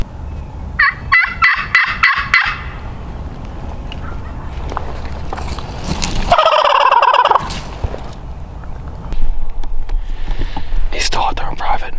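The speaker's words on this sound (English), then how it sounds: "He's still gobbling fairly well" Rio Grande wild turkey gobbler in Oklahoma calling outdoors, a rapid rattling gobble early on and another loud gobble later, with a hunter whispering nearby between calls.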